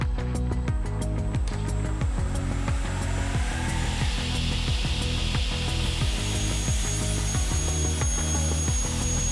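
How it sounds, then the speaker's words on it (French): A saw cuts an aluminium sliding window frame profile with a steady, loud grinding roar and repeated rhythmic strokes running throughout, shifting to a brighter, higher whine near the end. "Placez le profilé dans le bon sens sur votre scie."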